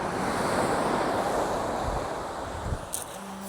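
Wind blows steadily at a seashore during a fishing session, a broad roaring rush mixed with surf that stays loud and constant, easing slightly toward the end with a few faint knocks.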